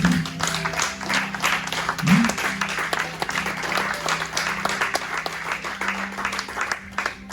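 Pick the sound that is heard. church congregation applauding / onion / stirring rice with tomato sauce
church congregation applauding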